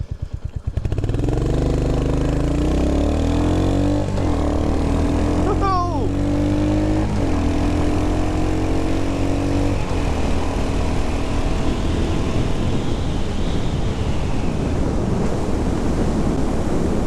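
A Royal Enfield Hunter 350 motorcycle pulls away in first gear, its engine revving up loud and close, then dropping briefly at a shift before running on steadily with wind rumble.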